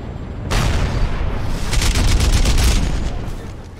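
A landmine explodes in Crysis Remastered, a sudden heavy boom that erupts and keeps rumbling loudly for several seconds before slowly fading, with no talk over it.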